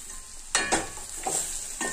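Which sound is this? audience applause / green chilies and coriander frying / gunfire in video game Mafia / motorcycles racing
green chilies and coriander frying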